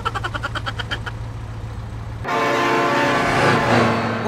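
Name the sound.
train and train horn in BeamNG video game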